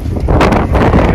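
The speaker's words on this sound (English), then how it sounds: "the wind like picked up, didn't it?" Wind gusts over a lake while out canoeing, roaring loudly and steadily against the microphone with a rough, buffeting rumble.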